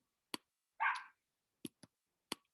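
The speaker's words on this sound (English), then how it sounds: "I don't know if you can hear my dog barking" A small puppy barks outside in several sharp, separate yaps with short gaps, plus one longer whining yelp, heard faintly at a distance with quiet between.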